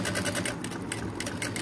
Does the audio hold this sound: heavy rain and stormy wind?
no